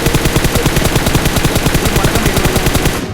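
A long string of firecrackers bursts in rapid, evenly spaced cracks, very loud and close, rattling on without a break for about three seconds before cutting off.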